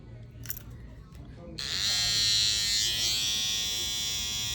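Electric barber hair clipper with freshly adjusted zero-gapped blades switches on after a moment of quiet and keeps running with a loud, steady high-pitched buzz close up.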